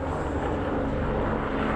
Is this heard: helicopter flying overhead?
yes